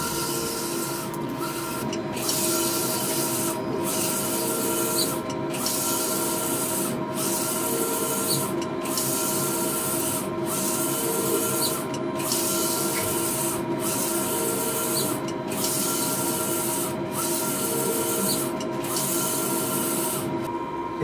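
A Mimaki CJV330 printer-cutter runs steadily with a constant mechanical hiss and hum, its print head sweeping back and forth in regular passes every couple of seconds.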